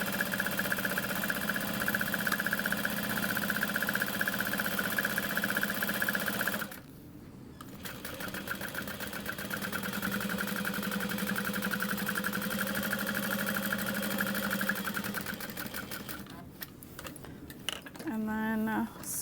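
Sewing machine stitching a Minerva tote bag, a close, steady mechanical whir that stops briefly midway, then runs again before pausing, with a voice speaking over part of it.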